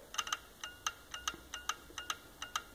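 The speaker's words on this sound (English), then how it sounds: "Very slight clicking sound." A reverse current relay on a test bench under applied voltage gives a quiet series of sharp, light clicks in an irregular rhythm, about a dozen over nearly three seconds, close and faint against a low hum.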